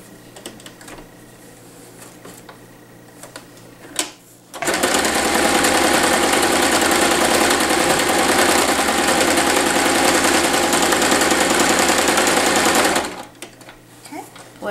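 A sewing machine double-stitches through fabric in a loud, steady, continuous run lasting about eight seconds, with quiet room sound and brief handling noises before and after.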